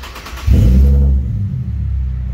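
A Nissan 350Z's VQ35HR engine with a mid-mount turbo turns over and catches with a loud, deep rumble, then settles into a steady low idle.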